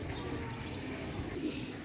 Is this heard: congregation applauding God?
no